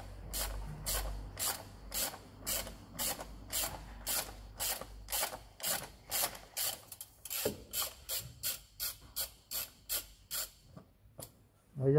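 A ratchet wrench clicks in quick rapid bursts while loosening the oil sump drain plug on a Hyundai i30 1.6 CRDI, close and clear, with brief pauses between strokes.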